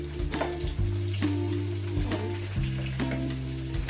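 Tomatoes go into squid adobo with chayote frying in a pan, giving a close sizzle over a low, steady hum, with soft irregular knocks and scrapes.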